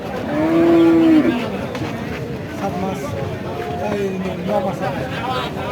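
A cow at a cattle market in Rajshahi gives one loud, sustained moo near the start. Crowd babble and voices of people talking continue under and after it.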